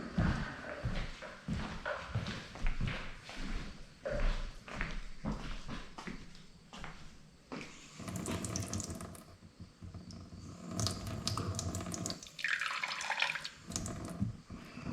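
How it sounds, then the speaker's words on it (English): Water is poured from a tap into a mixing container while preparing epoxy for a countertop flood coat, splashing and trickling steadily at close range with some clatter of handling. "Put a little bit more water in."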